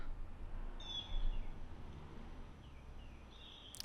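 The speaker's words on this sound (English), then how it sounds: "It's got some birds, a little bit of wind." A few faint bird chirps ring out over a soft, low rumble of light wind in a calm outdoor setting.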